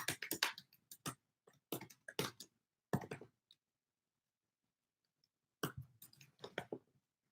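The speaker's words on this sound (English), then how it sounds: "I'm typing and thinking." Typing on a computer keyboard during a live stream, irregular bursts of quick clicking keystrokes separated by pauses, close and fairly quiet.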